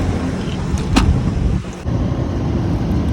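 Inside a car driving on a road, a steady low engine and tyre rumble fills the cabin, with a brief click partway through as a window is shut.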